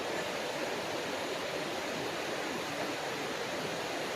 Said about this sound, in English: But you can hear the waterfall.